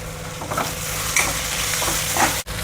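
Ginger garlic paste with green chillies and curry leaves frying in oil for a tomato egg fry, a continuous close sizzle with soft stirring scrapes and a short clatter near the end, no voices.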